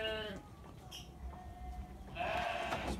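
A young female Texel lamb, just weaned, gives a wavering bleat at the start and another louder, harsher bleat near the end, with quiet farm pen ambience in between.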